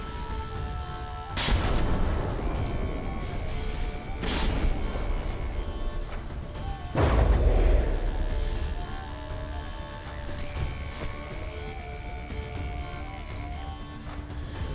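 Naval guns firing shells at ships in a dreadnought battle video game: a few heavy booms with rumbling decay, spaced seconds apart over a constant low background, with no talk.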